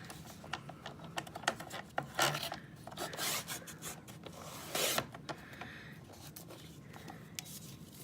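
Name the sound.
cutting a thick paper tube for beads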